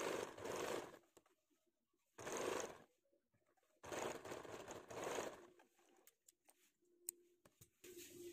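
An electric sewing machine runs in three bursts, stitching blouse fabric to its lining, each a loud rapid whirring run of about a second separated by quiet pauses, followed by small clicks and handling sounds.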